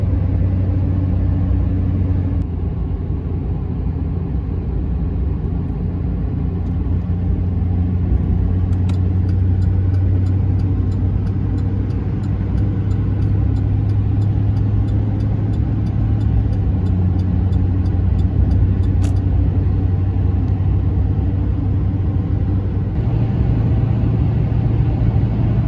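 A car travels along a road in central Illinois, with a steady loud engine and tire rumble heard from inside and occasional shifts in engine tone throughout.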